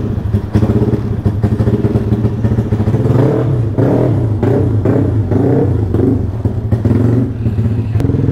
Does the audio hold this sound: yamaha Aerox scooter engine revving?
yes